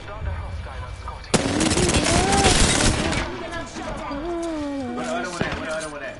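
Video game gunfire, a sudden loud burst of rapid shots followed by scattered sharp pops, mixed with excited voices talking and shouting over it.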